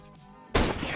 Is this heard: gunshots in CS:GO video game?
yes